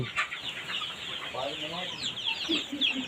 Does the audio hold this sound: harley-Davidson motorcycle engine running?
no